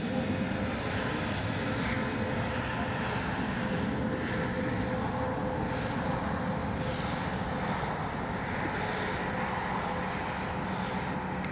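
Freewing 80mm F-22 model RC jet taking off and flying, a steady, loud, continuous roar of the electric ducted fan that holds even from start to end without pauses.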